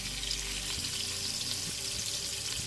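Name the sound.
browning floured lamb pieces in pan for stew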